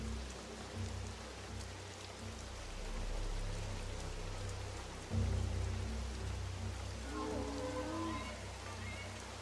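Steady rain pours in the video game The Isle, a dense, even hiss with a low rumble underneath and a brief soft creature-like call near the end.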